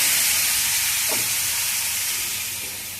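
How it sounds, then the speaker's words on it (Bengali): Shrimp frying in hot oil with salt and turmeric, a steady loud sizzling hiss filling the whole stretch with no pauses and no talk. "এবার আমি চিংড়ি মাছটাকে একটু বেজে নেব চিংড়ি মাছটা আমি তেলের করে দিয়ে দিয়েছি"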